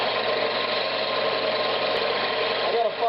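A wood lathe spins fast while turning a spalted pecan bowl, giving a steady high whirring drone, close and constant with no break.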